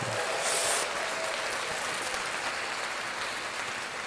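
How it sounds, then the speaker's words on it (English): Audience applause fills the space as a steady, dense wash of clapping that holds at an even, fairly loud level for about four seconds, with no voices over it. "Give Conte a round of applause."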